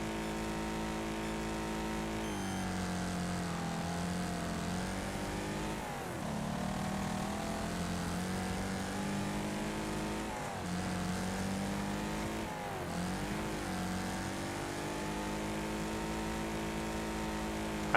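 Race cars driving in the Wreckfest video game, a steady loud engine drone with rising and falling revs and gear changes, continuous and unbroken with no talk.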